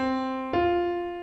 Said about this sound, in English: And this interval is called the perfect fourth.